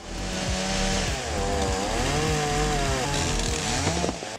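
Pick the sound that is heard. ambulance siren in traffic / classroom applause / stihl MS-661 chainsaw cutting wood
stihl MS-661 chainsaw cutting wood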